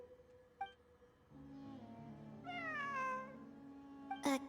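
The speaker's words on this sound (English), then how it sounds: "It really is a cat." A cat meows in a video game, several drawn-out, rising and falling calls over a steady low hum of background music, ending with a brief louder burst.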